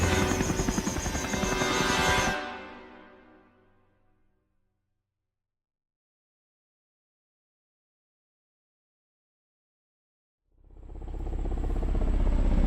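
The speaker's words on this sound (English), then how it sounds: "the two helicopters lifted off the ground and rose into the sky" Two helicopters lift off from a grassy island clearing: a loud, close rotor roar fades away over a few seconds into silence, then another heavy engine and rotor drone swells back in near the end.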